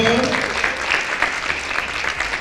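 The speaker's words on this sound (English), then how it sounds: "Let's give them a round of applause" A crowd claps at a criminal justice summit forum for gubernatorial candidates, a thick, even wash of applause from many people that holds steady throughout the short stretch.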